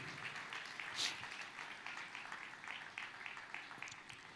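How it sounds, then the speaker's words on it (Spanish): A church congregation claps in praise to the Lord during a sermon, a loud, even wash of hands that carries on without a break, one brief sharper burst near the start. "Fuerte ese aplauso de alabanza para el Señor"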